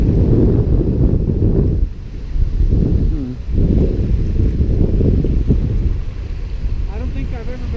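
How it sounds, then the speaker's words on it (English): Strong wind buffets the microphone outdoors at a shallow carp fishing spot, a loud continuous low roar that briefly dips twice before surging again. "I don't think I've ever been out here when it's been this windy."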